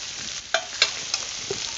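Chicken fries in a pan with a steady crackling sizzle, broken by a few sharp clicks of stirring, close and fairly quiet, with no talk.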